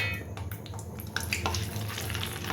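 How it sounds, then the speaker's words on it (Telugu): Roasted gram (putnalu) fries in a pan over low heat for a poha mixture snack, a steady close sizzle with crackling bursts throughout. "ఇవి కూడా సిమ్లో పెట్టి ఒక 2 మినిట్స్ వేగితే సరిపోతాయండి"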